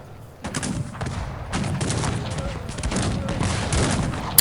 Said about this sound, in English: the grenadiers are coming, and the grenadiers will start to shoot